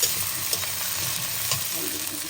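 Potatoes fry in hot oil with cumin seeds, making a constant close sizzle broken by a few soft stirring scrapes. There is no talking.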